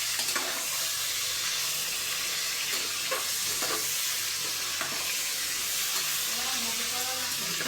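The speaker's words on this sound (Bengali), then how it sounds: "আর একটু কড়া ভাজা করতে হবে," A constant loud sizzle comes from pangas fish crisping in hot oil in a kadai, broken by a few sharp crackles and spatters, with a brief voice near the end.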